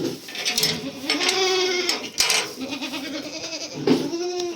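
Several goats bleat nearby, overlapping calls with wavering tones, and a person speaks briefly among them.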